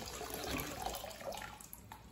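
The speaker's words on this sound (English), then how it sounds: "So we're flushing. Water level is dropping," Water drains and runs steadily while a boiler's low water cut-off is flushed, a continuous rushing flow with some gurgling, fairly close and uninterrupted.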